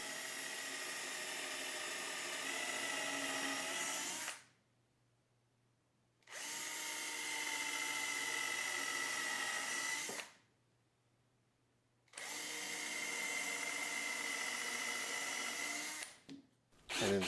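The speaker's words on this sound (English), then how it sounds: "Drill a few pilot holes." A power drill bores pilot holes into a plywood board for a table saw jig, three long steady whining runs of about four seconds each separated by silent pauses, close and clear with no talk.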